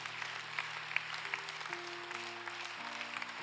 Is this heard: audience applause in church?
yes